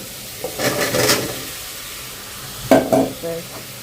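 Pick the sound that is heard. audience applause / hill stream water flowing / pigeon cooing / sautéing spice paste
sautéing spice paste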